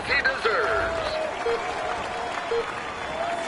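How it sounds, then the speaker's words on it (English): Crowd applauding a rider at a Tour de France individual time trial, a continuous spread of clapping and cheering with whistles, moderately loud, under a voice. "Come on, let's cheer him on as he deserves."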